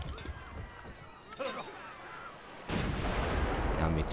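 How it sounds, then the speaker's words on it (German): Gunfire in a Civilization V battle, a burst of dense rattling shots that swells louder in the second half, with a voice speaking faintly beneath the din. "Ja, mit Maschinengewehr auch noch."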